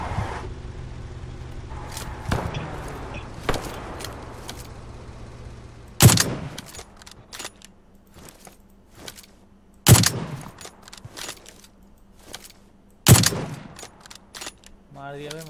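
Several sharp gunshot bursts in the video game PUBG Lite ring out at intervals, loud and punchy, with quieter clicks and background noise between them.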